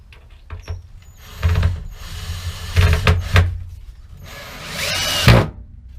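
A power drill drives a pilot hole into the wooden frame of a van bed in a 2016 Dodge Promaster City, in several short, close whirring bursts separated by brief pauses.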